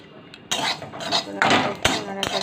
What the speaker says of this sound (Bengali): শুকনো কাঠখোলায় অল্প কটা দিয়ে দিলাম পাঁচ ফোড়ন আর একটা দিয়ে দিলাম শুকনো লঙ্কা দেখুন ফটফট করে ফুটতে লেগেছে